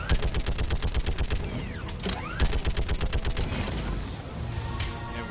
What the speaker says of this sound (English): when you shoot them with this, they just literally explode